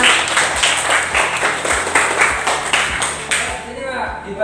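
A class of students claps in rhythmic unison for a classmate called up to present, quick regular claps close by, mixed with a teacher's voice, fading into quiet at the end.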